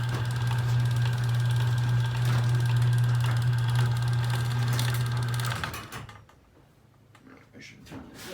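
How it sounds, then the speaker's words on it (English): Chamberlain PD752D garage door opener running with noticeable gear noise, a loud steady motor drone and grinding hum for several seconds, then stopping and leaving faint clicks and rattles. "It makes a little more gear noise than it used to."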